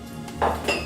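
A utensil scrapes and clinks twice against a bowl as semolina is worked together with melted butter for makrout, two short close strokes over a quiet background.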